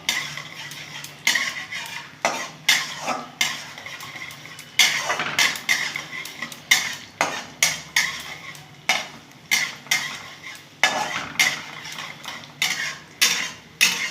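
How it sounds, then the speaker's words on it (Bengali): A metal spatula scrapes and knocks against a pan again and again while pointed gourd (potol) is stirred and fried. The sharp clinks come in irregular clusters, close and clear, over a faint sizzle, with no talk. "একটু নাড়াচাড়া করে একটু ভেজে নেব"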